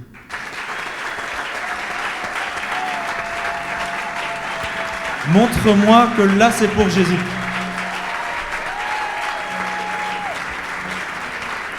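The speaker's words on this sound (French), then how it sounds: "Tu peux maintenant applaudir Jésus." A church congregation applauds steadily throughout, with a brief burst of voices or singing in the middle and a speaker talking over the clapping.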